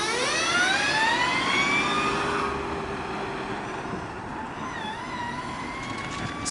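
A retrofit hybrid heavy-duty truck at a rig weight of 56,000 pounds pulls away from a standstill, a loud rising whine and engine drone climbing in pitch over the first seconds, then settling into a steadier, slightly quieter hum.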